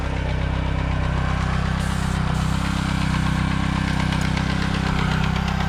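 Small engine driving a line-striping paint pump runs at a steady idle-like drone, constant and close throughout with no change in pitch and no voices over it.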